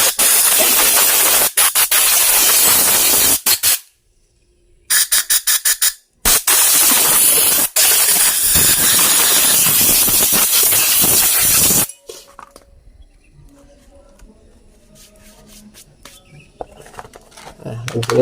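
Cleaner sprayed onto a dirty rear brake master cylinder in long, loud hissing bursts with brief breaks, then a quieter stretch of faint clinks and handling noise.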